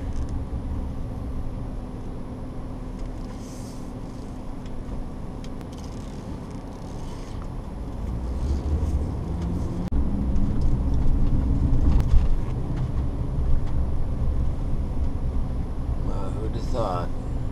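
Steady low road rumble from a camper van driving along a Welsh country road near Carew Castle, swelling slightly midway as traffic comes the other way, with faint voices in the cab.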